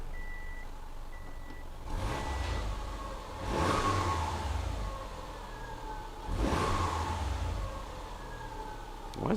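Car engine in a garage being revved twice as the throttle pedal is pressed, two loud surges that rise and fall under a steady idle, with a faint repeating beep early on.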